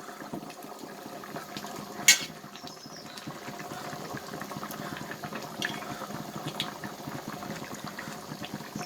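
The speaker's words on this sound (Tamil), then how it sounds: "நகர மீன் குழம்பு கொதிச்சிட்ருக்கு இன்னும் கொஞ்சம் வந்து கொதிச்சோன்னா ஆஃப் பண்ணிடலாம்" A pot of red mullet fish curry simmers on the stove, giving a faint, steady bubbling hiss throughout with one brief clink near the start and no talking.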